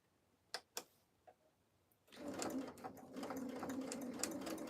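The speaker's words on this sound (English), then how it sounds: "We're at sewing with a FAF Quilt Ambition 635." A Pfaff Quilt Ambition 635 sewing machine running a fine straight stitch, starting after a few light clicks and then humming steadily and close with a rapid rattling needle rhythm.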